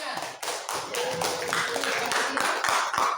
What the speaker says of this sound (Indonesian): Ya, tepuk tangan, tepuk tangan.